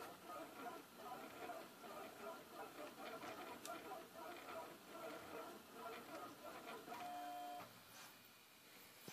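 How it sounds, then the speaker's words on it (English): An upgraded Prusa MK3 3D printer, converted from an MK2S, runs a print job, giving a steady mechanical whir with rhythmic stepper-motor tones and brief pitched whines near the end, close and continuous throughout. "right now it is printing properly"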